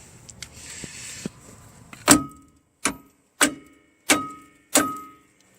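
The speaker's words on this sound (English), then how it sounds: "I'm gonna hit that sucker really hard with a maul here" A maul strikes the lower ball joint of a 1996 Ford Mustang five times in a steady rhythm, each blow a sharp, loud metallic clang that rings briefly and then dies away. Quieter shuffling comes first.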